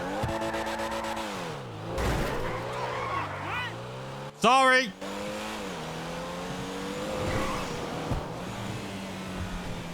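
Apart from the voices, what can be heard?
Porsche-like car engine revving and tire squeal in video game GTA 5 Online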